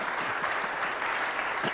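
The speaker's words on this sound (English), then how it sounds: "Clap on that" A short burst of audience applause, steady clapping from a crowd at moderate volume.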